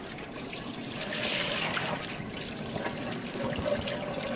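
Water rushes steadily through a dishwasher supply hose during installation under a granite counter, a continuous close hiss and trickle lasting several seconds with no talking.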